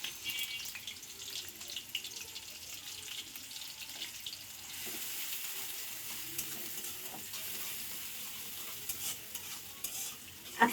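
Onions frying soft in a home kitchen pan, a steady sizzle with scraping stir strokes and bursts of running tap water, growing denser partway through; no voices.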